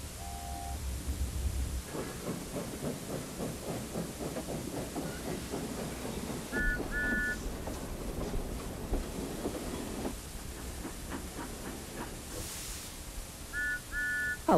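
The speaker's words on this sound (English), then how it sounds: "I think I can hear my 2 engines coming right now." Cartoon steam engines approach along a railway with steady rhythmic chuffing and hiss, a clickety-clack beat and short two-tone whistle toots recurring over about fifteen seconds.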